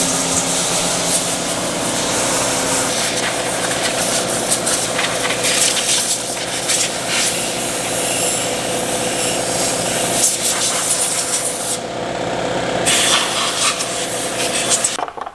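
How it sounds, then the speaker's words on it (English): Compressed air blasts steadily out of a free, used chainsaw during a clean-out, making a loud, continuous broadband hiss that holds for about fifteen seconds with only slight surges. "Let's go hit this with some compressed air."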